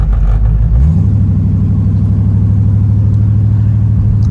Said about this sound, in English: I want y'all to just see how smooth it is with this vacuum secondary carb.